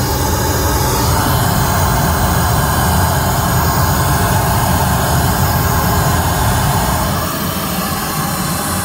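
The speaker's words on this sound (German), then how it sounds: "rosa Rauschen eingelegt. Das ist ein Signal, wo jede Frequenz gleich laut ist." Loud, steady broadband pink noise test signal blasts through an aftermarket amplifier and subwoofer in a VW Golf 7, a dense continuous hiss with heavy low rumble that stays constant throughout, then dips slightly near the end.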